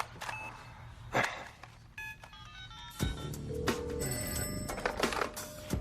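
A telephone rings in a TV comedy scene, its repeated electronic bell tones sounding over background music and scattered clicks and footsteps, loud and close.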